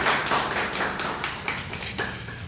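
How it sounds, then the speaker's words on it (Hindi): Applause breaks out from a gathered audience at an indoor company meeting, a dense, steady patter of many hands clapping at close range for a few seconds with no voices over it. "एक बार जोरदार तालियां"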